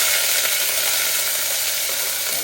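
Tomato hitting a hot pan for Guyanese saltfish, a loud, bright, continuous sizzle close up that holds steady and eases slightly toward the end.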